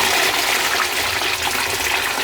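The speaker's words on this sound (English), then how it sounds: "each flush consumes less water" A boat toilet with an adjustable cistern flushes in a loud, close rush of gushing water that holds steady for about two seconds.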